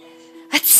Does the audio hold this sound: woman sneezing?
yes